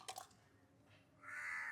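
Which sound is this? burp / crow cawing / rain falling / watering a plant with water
crow cawing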